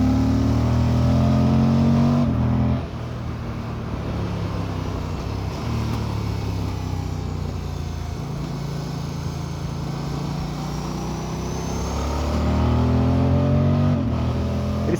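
A new 2024 Moto Guzzi Stelvio motorcycle engine while riding, a loud, close steady drone that drops in pitch after a couple of seconds, holds through the middle, then climbs again as revs rise near the end.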